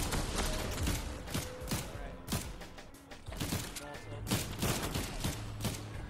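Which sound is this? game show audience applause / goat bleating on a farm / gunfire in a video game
gunfire in a video game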